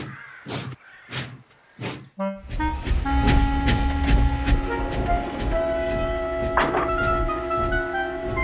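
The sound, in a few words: breakdown train running on rails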